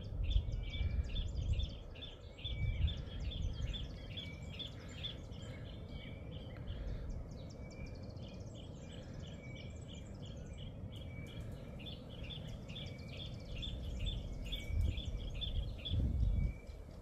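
Small wild bird singing at the St Lucia estuary: a steady run of high, repeated chirps and trills carrying over low rumbling wind and engine-like noise for the whole stretch.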